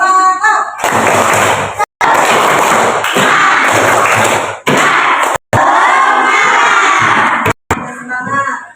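A school class claps together in a rhythmic spirit-building cheer, loud and close, with bursts of group shouting and thumping hits broken by brief pauses.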